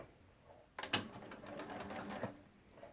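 A sewing machine stitches binding down the edge of a quilted placemat, starting abruptly with a fast, close, rattling run of needle strokes that slows near the end, with no talk.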